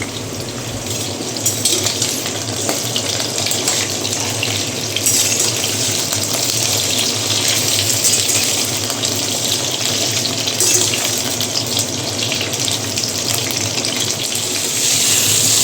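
Potato and eggplant pieces frying with salt, turmeric and green chilli give a loud, steady, dense sizzle that runs unbroken throughout.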